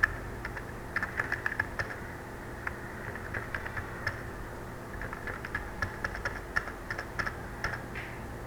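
Steady typing on a computer keyboard, quiet, close key clicks in an irregular flow across the whole stretch over a faint background hum, with no talking.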